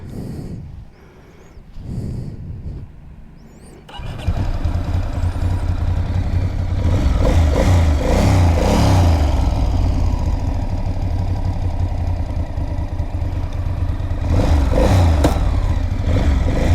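A Ducati Monster S2R 800 motorcycle engine cranks and catches, then settles into a loud, close, throaty idle with several sharp revs rising and falling.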